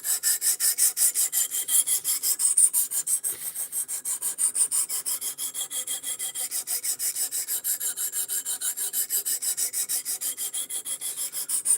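Steady back-and-forth scraping of a knife being sharpened on a Precision Adjust Elite sharpener, many quick regular strokes continuing for several seconds, close and dry, with no speech.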